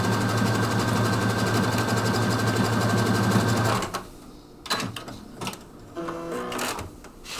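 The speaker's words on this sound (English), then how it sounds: "and then go ahead and embroider it out" A Stellaire embroidery machine stitches out a design with a loud, steady mechanical whir and rapid needle rhythm that stops abruptly partway, followed by a few scattered clicks and handling noises.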